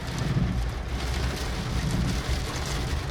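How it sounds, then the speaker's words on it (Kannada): Heavy rain pours down steadily near a highway toll booth, a dense, continuous hiss of drops drumming on surfaces, loud and close, with no voices over it. "ನೋಡಿ ಹೆಂಗ್ ಬೀಳ್ತಾ ಇದೆ ಮಳೆ."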